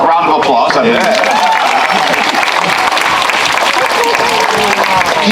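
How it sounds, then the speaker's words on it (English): An audience applauds loudly and steadily throughout, a dense wash of clapping with a few chuckles mixed in, while a voice speaks over it. "Round of applause."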